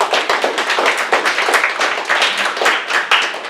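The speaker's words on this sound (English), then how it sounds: "Give them a round of applause" Dense, loud applause from a comedy club audience as two performers come to the stage, a sustained wash of many hands clapping with no talk over it.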